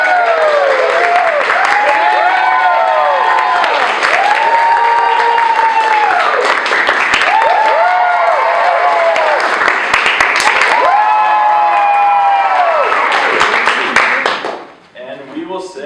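A live theater audience at an improv show cheers loudly, with whoops, shouts and clapping sustained for about fifteen seconds before dropping off abruptly at the end.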